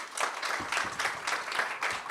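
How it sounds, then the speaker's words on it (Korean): A conference audience at a session on AI, labor and science policy applauds to welcome a speaker, a brief burst of dense, steady clapping from many people in a hall. "여러분 박수로 환영해 주십시오."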